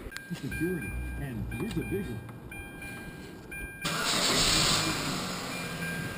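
A 2007 Kia Optima 2.4L 4-cylinder engine starts and runs with a steady mechanical hum during a coolant refill, heater on full hot, while a person talks over it early on, then louder broadband engine and fan noise.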